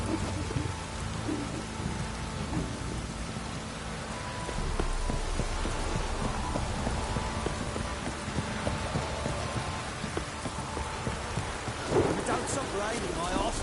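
Rain and thunder in The Witcher 3 video game, steady heavy rainfall with low rumbling thunder throughout and a louder swell near the end, with faint hoof-like clops under it.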